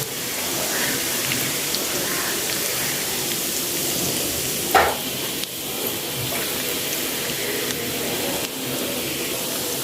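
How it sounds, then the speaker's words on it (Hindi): Garlic and cumin fry in oil for masoor dal with a steady, soft crackling hiss, interrupted by one brief sharp click near the middle. "साथ ही हम इसमें ज़ीरा ऐड करेंगे और इसको हम 2 से 3 मिनट तक अच्छी तरह भूनेंगे"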